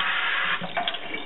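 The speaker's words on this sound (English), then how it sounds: "I like to swirl the water around just to make sure" Water sloshes and swirls inside a hookah base during rinsing, a steady close-up wash of running liquid with a few brief splashy bumps near the end, no voices.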